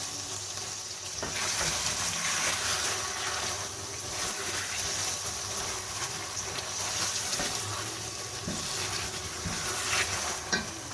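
Garlic, ginger, chicken and onion frying in a pan for Lahori murgh chanay korma, a steady close sizzle with occasional stirring scrapes throughout, no talking.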